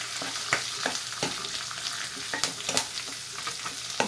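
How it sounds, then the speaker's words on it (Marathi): Onion fries in a hot pan of tempered oil with curry leaves, green chillies and garlic, a steady close sizzle broken by scraping stirs and occasional louder spatters. "हा कांदा भाजतोय"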